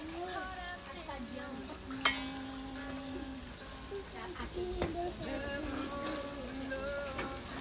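Chicken and steak fry in a hot pan with a steady crackling sizzle, close up, marked by a few clinks and scrapes of a utensil against the pan.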